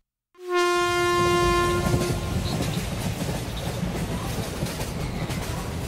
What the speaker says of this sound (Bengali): ট্রেনটা স্টেশনে যখন দাঁড়ালো